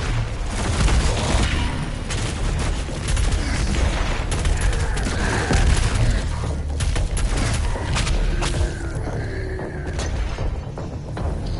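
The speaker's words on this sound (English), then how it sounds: "What's shooting at me?" Dense, continuous gunfire and booming impacts from Doom Eternal pound away at the player, loud and close, with rapid shots and thuds layered throughout.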